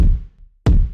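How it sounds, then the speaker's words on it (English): Two punchy Pearl reference kick drum hits from the Addictive Drums library, each a deep close thump with a quick decay, separated by a brief silence. "I like the Pearl reference kick a lot."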